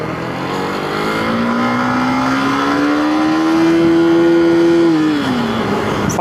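A KTM Duke 250 motorcycle revs hard in first gear, its engine note climbing steadily toward redline before dropping sharply at the shift, loud and close with no talk.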